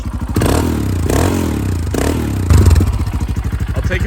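A Royal Enfield Himalayan single-cylinder engine fitted with a Delkevic header runs rich, loud and close, with rapid pulsing exhaust beats that swell through a few revs before settling into a quick, even thump.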